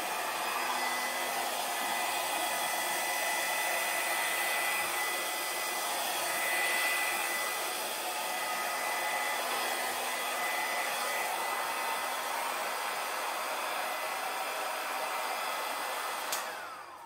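A blower, sounding much like a hair dryer, blows out puddles of acrylic pour paint. The whirring hum runs steadily for about sixteen seconds, close and fairly loud, then cuts off at the end, with no talk.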